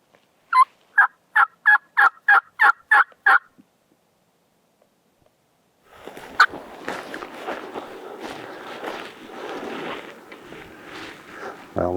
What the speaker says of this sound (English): Well, one just gobbled.